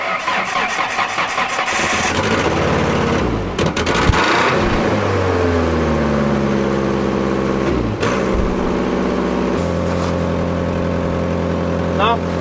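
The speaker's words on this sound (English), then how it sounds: "We're gonna get a little cold start here." A car engine running on vegetable oil cranks briefly on a cold start, catches and starts, then settles into a steady rumbling idle with a slight rev, recorded up close.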